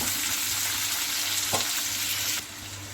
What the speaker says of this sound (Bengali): আলুর সঙ্গে গাজরটা একটু ভাজা হয়ে যাবে